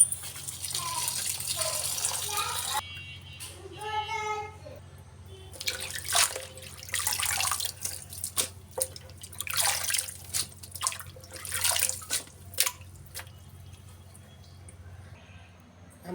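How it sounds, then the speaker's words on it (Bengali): Running water and splashing as bottle gourd greens are washed by hand, with intermittent gushes and drips at close range under a low steady hum. "শাকটি এখন ধুয়ে নিব।"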